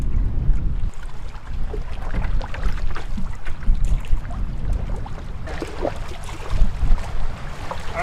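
Canoe paddled along a river in the Canadian wilderness, with steady water swishes and splashes from strokes mixed with wind rumble on the microphone, close and fairly loud throughout.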